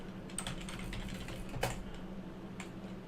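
Rapid, light key clicks from a computer keyboard, heard up close at a soft level and spaced in irregular runs as a short search is typed.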